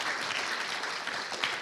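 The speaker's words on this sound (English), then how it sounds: "That deserves a bigger hand clap than that." An audience claps during an interview-style event, a short continuous patter of many hands at moderate loudness, with one sharper clap standing out near the end.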